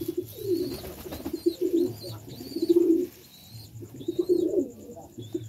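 Lotan pigeons with feet about five to six inches across coo in repeated low, throaty phrases, several birds close by, with faint higher chirps above.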